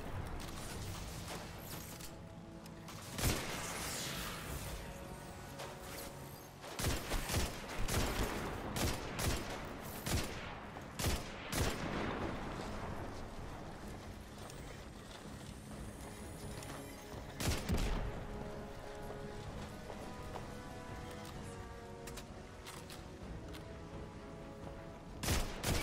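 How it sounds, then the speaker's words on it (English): Scout rifle fire in Destiny 2, repeated sharp cracking shots in irregular bursts with mechanical clicks between, loud against a steady game music backdrop. "That is a scout rifle."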